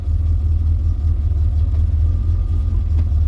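A barn-find Vauxhall Viva with a troublesome carburettor drives along with a flat spot, its engine a steady, loud, close low rumble with no clear change in pitch.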